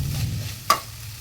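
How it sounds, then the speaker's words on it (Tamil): Boiled chickpeas stirred together with onions in a pan: a single sharp scrape of a spoon against the pan over a low, steady background hum. "கடலையை போட்டு வெங்காயத்தோட மிக்ஸ் பண்ணி எடுத்துக்கலாம்"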